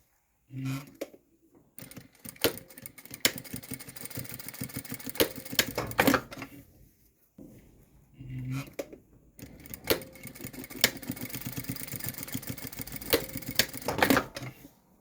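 A sewing machine stitches a bag's zipper together with a D-ring and strap in two long runs of rapid mechanical chatter, separated by a short pause, loud and close.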